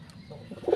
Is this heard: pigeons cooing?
yes